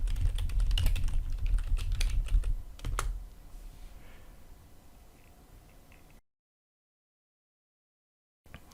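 Fingers tap out a search on a computer keyboard in a quick, close cluster of clicky keystrokes, then the typing stops and a quiet room tone follows before the sound cuts to silence.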